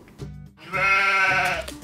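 A goat bleats nearby, with a short call first and then a long, strong, quavering bleat; a toy goat from a Heidi house play set.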